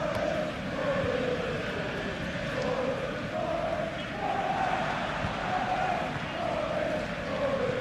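Simulated crowd at a Nottingham Forest vs Aston Villa football match: a steady, far-off roar of many voices with gentle swells, continuous and even, with no talk over it.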